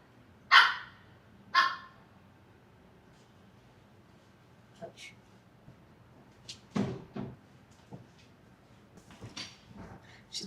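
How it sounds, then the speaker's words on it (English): A small dog gives two sharp barks close by, followed by scattered softer yips and light knocking sounds in a quiet room. "She's barking at her reflection in the mirror."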